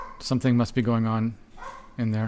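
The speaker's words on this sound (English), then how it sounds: "Sorry about my dogs." Dogs bark and yip in the background while someone speaks over them, the barks landing in short bursts between his words.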